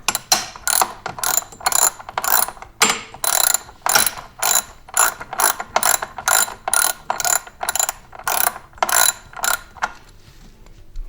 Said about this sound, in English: ratchet. Put our nut.